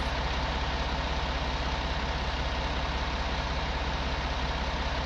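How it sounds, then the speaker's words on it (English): A tractor engine in the farming video game Farming Simulator 19 idles with a steady, loud, low drone that holds unchanged throughout, with no talking over it. "And I'm going to run round with the tractor."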